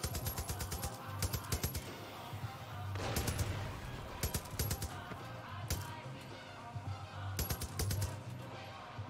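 Rapid gunfire in the shooter game Far Cry New Dawn comes as repeated bursts of sharp shots with a low rumble of music and action underneath. It stays fairly quiet and steady throughout.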